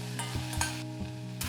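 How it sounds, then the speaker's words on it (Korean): Aged kimchi sizzles as it is stir-fried in a pan with a spoonful of sugar, with a steady close hiss broken by soft scrapes and stirring knocks. "설탕 1큰술을 넣어서 잘 볶아줍니다."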